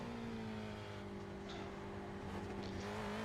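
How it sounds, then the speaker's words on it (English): Spec Racer Ford race car engine in the iRacing sim at Oulton Park, a steady droning engine note that holds level with a brief pitch shift as it drops a gear, loud and continuous with no talk. "You use the extra downshift here."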